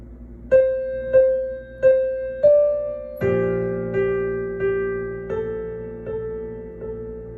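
Solo piano plays a song: a few single notes struck at an even pace, then a fuller chord ringing out with further notes decaying over it, clear and close with no talk.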